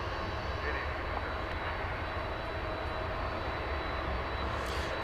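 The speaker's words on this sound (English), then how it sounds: "So there goes, follow that Dreamliner." Boeing 787 Dreamliner jet taking off at DFW airport, a steady broadband engine roar held at a distance with no clear rise or fall, while a person talks over it.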